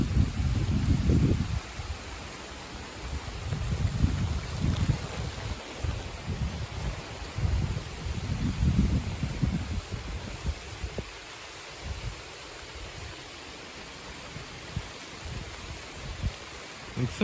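Strong gusts of wind buffet the outdoors in rough, roaring bursts that rise and fade during a sleet shower, with a steady hiss of falling sleet beneath.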